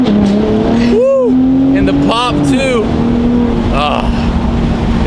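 Gen 3 Ford Raptor pickup truck with turbocharged engine revving and accelerating nearby, a steady loud drone with rising and falling whooshing pitch sweeps from the turbos spooling, with brief voice sounds over it.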